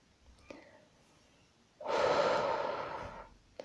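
A relaxation breathing exercise: one long, slow, audible exhale, heard close up and alone, with quiet room air around it.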